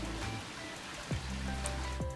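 Mountain stream water flows steadily into a fish farm in Switzerland, giving a constant, close watery rush over the brief moment.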